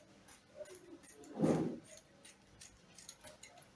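Scissors cut fabric for the front neckline of a cold shoulder top, one loud, close snip in the middle with quiet rustling before and after.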